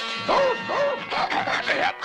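Sled dogs on a team bark and yelp in quick bursts, several loud close calls in a row with a whining, rising-and-falling tone.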